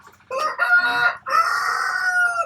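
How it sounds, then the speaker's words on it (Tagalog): A rooster from a flock of Rhode Island Red and Harvard chickens crows nearby, one loud drawn-out call broken into two phrases, with no talking. "Harvard chickens natin dito sa kabila kasi mga puro Rhode Island red dito"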